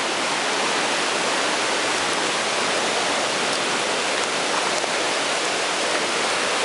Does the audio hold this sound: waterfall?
yes